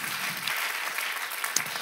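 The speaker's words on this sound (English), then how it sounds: "Let's give my wife a round of applause." A church congregation applauds steadily at moderate volume, an even wash of many hands clapping with a single sharper clap standing out near the end.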